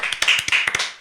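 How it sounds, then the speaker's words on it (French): Several quick, close hand claps in a studio discussion, sharp and irregular over about a second, with no voices over them. "moi, j'applaudis Augustin pour sa chronique"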